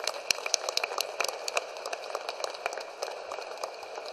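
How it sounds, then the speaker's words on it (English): An audience in Pittsburgh applauds at the launch of the 6th Annual Municipal Equality Index, giving a steady, fairly faint patter of many hands clapping at once that continues without a break and without any talk. "So we'll just give everyone a round of applause."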